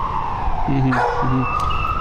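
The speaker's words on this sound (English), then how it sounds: "The sirens of police, firefighters and ambulances," Police siren wailing along a New York street in Brooklyn, a steady tone rising and falling over continuous traffic noise, with two short lower horn-like bursts cutting in partway through.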